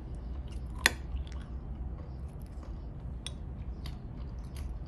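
Close, soft chewing of custard apple ice cream topped with roasted peanuts, with a sharp crunch early on and faint wet bites after, no talk over it.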